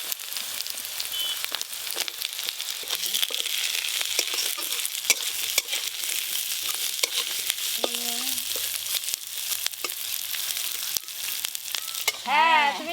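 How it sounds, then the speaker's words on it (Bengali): Capsicum and onion fry in a pan with a steady bright hiss and crackle, punctuated by occasional scraping stirs, and a few brief tonal sounds and a short voice rise near the end. "ক্যাপসিকাম আর পেঁয়াজ একটু হালকা করে ভেজে নিয়েছি"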